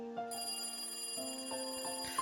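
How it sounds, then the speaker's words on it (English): A telephone rings in a Higurashi Matsuribayashi visual novel scene as a bright, electronic bell-like tone that repeats in short evenly spaced pulses over a steady tonal background, clear and moderately loud. "Then the phone rang."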